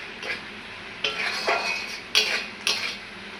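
A spoon stirs and scrapes through potatoes coated in turmeric, cumin and chilli powder in a pan, with a handful of sharp clinks against the metal standing out over a soft background hiss and no talking.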